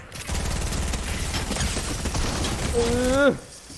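Rapid automatic gunfire in Fortnite: a continuous fast rattling burst of shots for about three seconds, loud and close, ending as a voice breaks in with a rising shout.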